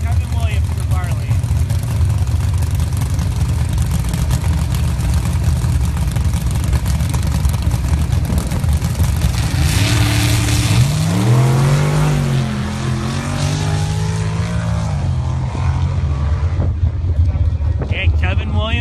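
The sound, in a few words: Jeep engines revving at a drag race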